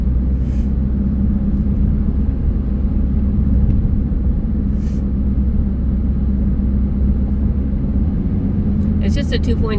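Inside a 2015 Mitsubishi Outlander with a 2.0 engine climbing a hill, a loud, constant low engine and road rumble fills the cabin, with faint clicks near the end.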